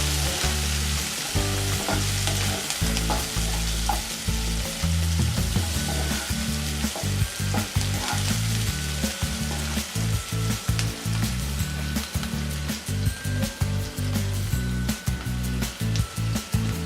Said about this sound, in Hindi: एक प्याज बारीक टुकड़ों में कटा हुआ। और इसे हम 2-3 मिनट के लिए पकाएंगे अच्छे से।